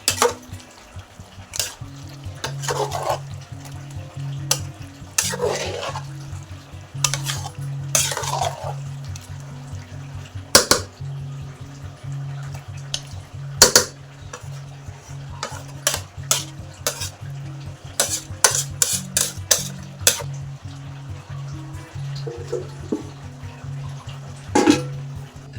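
Onions frying in ghee in a pot for chicken dum biryani, a soft continuous sizzle punctuated by repeated scraping and clinking strokes of a spoon stirring, close and intermittent, with no talk over it.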